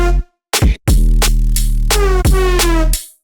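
Jump-up screech bass synth pitched down an octave, a series of loud, buzzy sustained notes with short breaks between them, dense and heavy in the low end.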